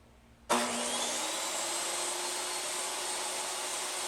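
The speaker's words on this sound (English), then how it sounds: "for the first cut, I am going to shave 1/8 inch off of a 2x6" A DeWalt table saw blade whines loudly and steadily as it shaves 1/8 inch off the edge of a 2x6 board, starting abruptly after a quiet moment and holding a sustained high-pitched roar.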